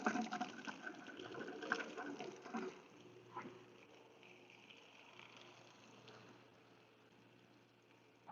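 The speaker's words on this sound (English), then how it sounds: "Get some water on here." Water splashes and pours onto garden plants nearby for a few seconds, then trails off into a quiet, faint trickle with a low hum underneath.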